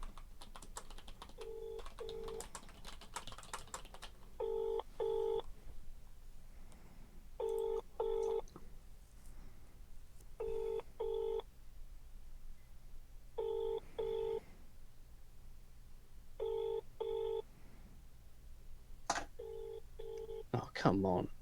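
A phone ringback tone repeats in paired bursts at steady intervals, faint and tinny over low background noise and occasional clicks.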